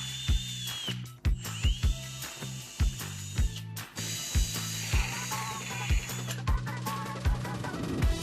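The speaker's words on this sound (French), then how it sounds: "Installez une mèche à bois adaptée au diamètre des vis prévues." A power drill fitted with a wood bit bores pilot holes for screws, several short bursts of motor whine separated by pauses, close and loud, with sharp clicks and ratcheting at the start and end of each burst.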